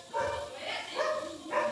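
A Fila Brasileiro barks an alarm three times in quick succession, the deep woofs sounding somewhat distant and muffled, with faint background noise between them.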